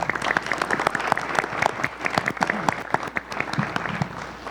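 Conference audience applauding after a panel on thanatopraxy and post-mortem restoration, a dense, lively wash of many hands clapping with sharp individual claps standing out, steady and close throughout.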